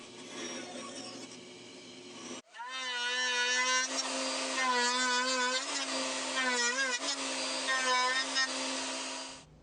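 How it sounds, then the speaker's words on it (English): Bandsaw cutting through a block of wood in a woodworking shop: after a brief lead-in, a loud steady motor whine with a tonal, slightly wavering pitch runs continuously as the blade works through the material. "I'll remove the bulk of the material in the bandsaw"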